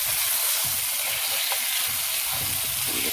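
Chicken pieces being mixed into a yellow Jamaican-style curry gravy in a pot, giving a steady, close sizzle and frying hiss with soft stirring, no talking.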